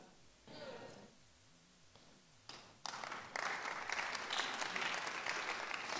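An audience breaks into applause, starting with a few claps and swelling into steady clapping from a crowd, with a voice briefly heard beforehand.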